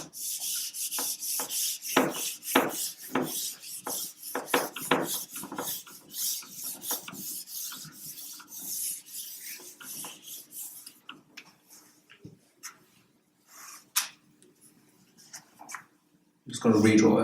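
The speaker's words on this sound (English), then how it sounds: "I'm just going to rub out some of this so I can have a little bit more space." An eraser rubs out part of a hand-drawn anatomy diagram, giving rapid, close rasping strokes in quick bursts that fade to sparser, quieter rubs before a loud final scrub.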